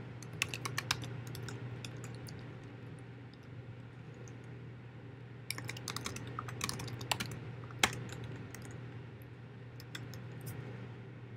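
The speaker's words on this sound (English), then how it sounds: "I can also start typing in my own code" Bursts of keyboard typing, clicks in quick irregular clusters with pauses between, over a steady low hum; no one speaks.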